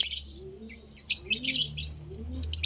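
Small birds in a small home aviary chirp in quick, bright bursts, with soft low cooing underneath between the calls, close by and without talk.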